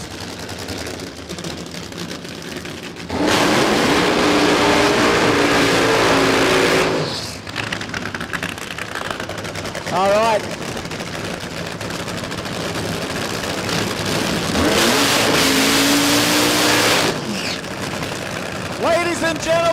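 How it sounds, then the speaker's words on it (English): Outlaw Nitro funny cars at Warwick Dragway, Australia, firing up and rolling toward the burnout box: thunderous crackling engine bursts that swell and fade, with an announcer talking loudly over the roar. "That is the sound of Nitro funny cars firing up and coming into the burnout box."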